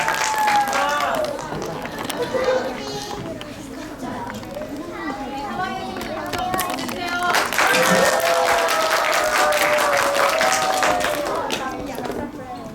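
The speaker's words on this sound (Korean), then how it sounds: "큰 박수로 맞이해주세요" Applause and clapping greet a third-grade student speaker at an elementary school dream-class fair, mixed with lively children's chatter and voices throughout, at moderate loudness.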